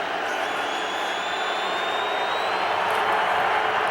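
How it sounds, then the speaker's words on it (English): A football stadium crowd at a CFL game between Calgary and Edmonton roars in a loud, sustained wash of noise meant to disrupt play, steady and dense throughout with a faint rising whistle threading through it. "Now the crowd trying to disrupt things."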